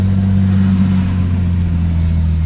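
A Nissan Stagea's RB25DET engine running smoothly after a fuel system upgrade with new fuel rail, injectors and regulator, a steady low droning hum held close and loud without misfires, no voices.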